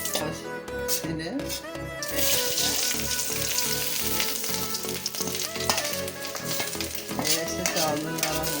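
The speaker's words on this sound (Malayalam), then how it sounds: "വറുത്തെടുക്കുക." Food fries in ghee in a pan with a loud, continuous sizzle and occasional stirring, while a person talks over it.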